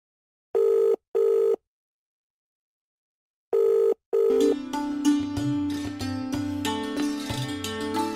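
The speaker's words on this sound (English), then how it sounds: "Ever noticed the mobile phone vibrating when it rings?" A mobile phone rings with two pairs of short, loud electronic tone bursts, separated by a pause, and then a musical passage follows under the last ring.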